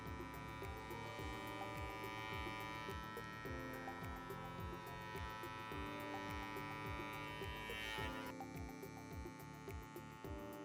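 An electric hair clipper runs close by while tidying and tapering neck hair, giving a steady buzzing hum with repeated soft scraping strokes as it moves. No one speaks.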